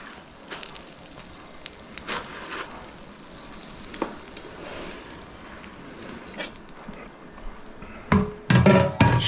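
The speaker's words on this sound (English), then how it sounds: "Everything's sizzling." Pepperoni pizza with cupped, charred pepperoni sizzles in a pan, a steady close crackle that runs throughout and ends in a few louder bursts of frying.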